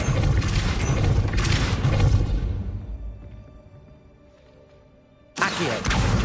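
A Depulso repelling spell cast in the video game Hogwarts Legacy, a loud whooshing boom that decays into a fading rumble, followed after a quiet pause by another sharp blast.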